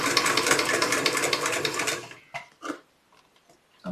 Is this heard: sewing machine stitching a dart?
yes